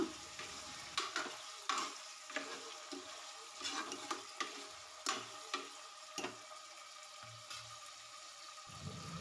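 A spoon stirs a small chopped tomato into curry frying in a pan, with soft sizzling under repeated scraping and clinking strokes at an irregular rhythm. The sound is fairly quiet and close, with no one talking.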